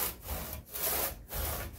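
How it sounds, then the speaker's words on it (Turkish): A hand saw cuts through a pumpkin in three steady back-and-forth strokes, each a close, rough rasping drag, with no talking. "Testeremizle kesmeye başlıyoruz."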